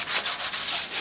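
Primer is sanded by hand with 240-grit sandpaper on a car fender repair, quick rhythmic scratchy strokes repeating close up, with no voices.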